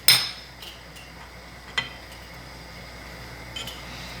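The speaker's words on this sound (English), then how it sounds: "And I'm going to whisk that in." A whisk works through a homemade cream sauce for tortellini in a metal pan, making a few sharp metallic clinks and taps spaced apart over quiet background noise, with no talking.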